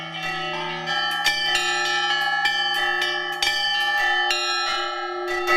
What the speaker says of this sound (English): The chime of bells from the St. Nicholas Cathedral in Latvia's third largest city